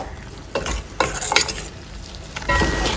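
Beetroot pachadi with ground coconut paste is stirred in a sizzling pan, with a spoon scraping in several strokes over a steady frying hiss.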